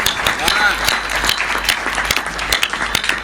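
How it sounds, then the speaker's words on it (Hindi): A crowd at a live comedy and poetry performance claps steadily, the applause dense and loud and running through the whole stretch. "यहाँ से लेके और वहां तक हाथ उठाकर बजाओ ताली"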